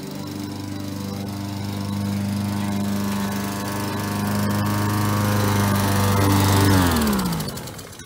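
Lawn mower engine running with a steady droning hum that slowly rises and swells, close and loud, then winds down sharply near the end; no talk.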